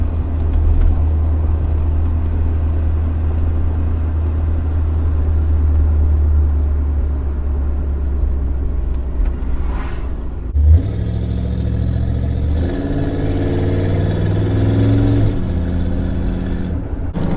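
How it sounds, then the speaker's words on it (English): A 1972 Buick Skylark Custom cruises along with its engine droning in a steady low rumble inside the cabin, and a brief louder surge of engine and road noise comes partway through, with no talking. "riding along in this 72 Buick Skylark Custom"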